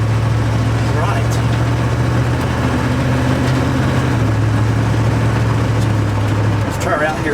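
A truck engine drones steadily throughout on a road test drive after a tandem brake cylinder upgrade, a loud low hum that shifts pitch slightly midway, with faint voices underneath.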